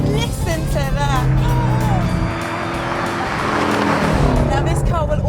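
A tuned 1000 bhp Ford Mustang engine roars and revs hard as it accelerates, loud and close, with someone talking over it.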